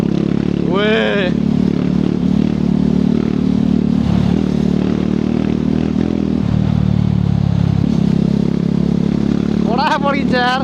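A 390 motorcycle rumbles steadily while riding in Pokhara, its engine drone continuous and close, with a few brief sharp bursts; a voice speaks near the start and end.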